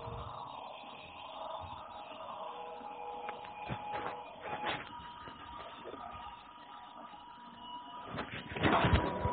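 A beater whirs steadily and mechanically as sponge cake batter is whipped with the remaining sugar, a continuous close motor drone that swells louder near the end.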